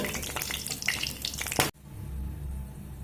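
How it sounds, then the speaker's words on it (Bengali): Whole garam masala, cumin seeds and a dried red chili crackle and sizzle in hot oil for a paneer curry, loud and busy at first, then breaking off suddenly into a quieter steady hiss. "এবার আমি এখানে ফোড়নে দেব গোটা গরম মশলা আর গোটা জিরে আর দেব একটা শুকনো লঙ্কা ওটা ফোড়নটা একটু ভাজা হতে দেব"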